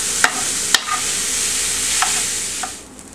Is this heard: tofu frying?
yes